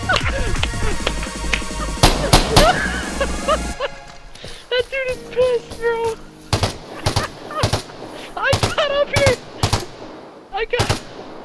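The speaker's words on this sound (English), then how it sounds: "Shoot him, Shoot that guy! Hit that guy!" Rapid bursts and sharp single shots of gunfire ring out in the shooter game Warzone, loud and repeated over game music and effects, while players shout excitedly over the action.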